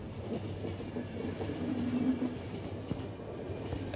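A train rolls along in the video game The Final Station, giving a steady mid-loud rumble with soft rhythmic clatter and a brief tonal whine near the middle, and no voices.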